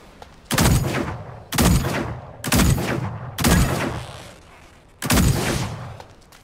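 Five loud bursts of gunfire in the mech battle game Super Mecha Champions, each a sharp blast with a decaying tail, spaced roughly a second apart with a longer pause before the last.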